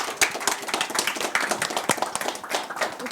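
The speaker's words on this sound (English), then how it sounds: "Let's give her a round of applause as she comes on the stage." An audience at a business marketing talk claps as a speaker comes on stage, a brisk, fairly close patter of many hands that stays even throughout.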